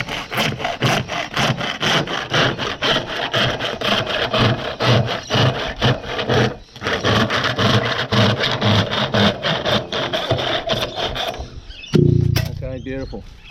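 A fine-tooth hand saw of about 14 teeth per inch cuts straight across a plastic stormwater pipe in steady, rapid back-and-forth rasping strokes, loud and close, ending with a brief clatter.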